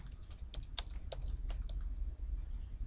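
Keystrokes on a computer keyboard while a beam is named in a deflection calculator, a quick burst of distinct clicks with uneven spacing, close and fairly quiet over a low background hum.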